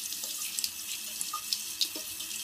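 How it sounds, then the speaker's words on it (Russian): Hot water runs steadily from the tap of a Poseidon flow-through electric water heater, a continuous close hiss with small splashy spikes and no voices. "А теперь уже идет горячая вода."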